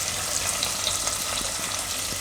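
Onions frying in hot oil with grated ginger for rice with green chickpeas and potatoes, a steady broadband sizzle that holds evenly throughout with no speech.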